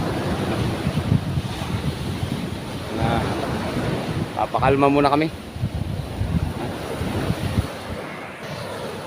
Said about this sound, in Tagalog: Lalaki talaga mga bro ng alon